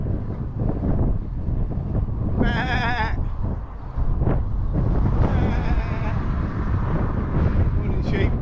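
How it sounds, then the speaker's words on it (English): Sheep bleating in an open countryside field on a windy morning, with a clear close bleat in the middle, more faint bleats later, and steady wind rumble throughout. "Morning sheep."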